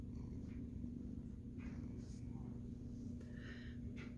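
Buster the cat purrs close by in a soft, continuous low rumble that swells slightly with each breath. It is quiet and steady for a few seconds, with faint background sounds.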